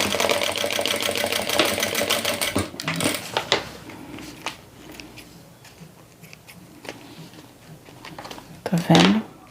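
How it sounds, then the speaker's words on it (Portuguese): Domestic sewing machine stitching a transparent vinyl pouch, a dense rapid mechanical whirr for a couple of seconds, then scattered handling clicks and rustles while someone talks nearby. "Passo uma costurinha aqui de um pezinho de máquina, só para prender."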